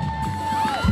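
Carnival crowd cheering at the Carnachoeira 2016 queen-candidate parade in a central square, a dense continuous roar of voices with a louder swell near the end.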